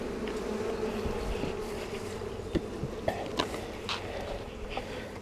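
Honey bees buzz steadily around an open hive during a June inspection, a close, continuous droning hum with a few soft knocks and frame handling sounds, no talking.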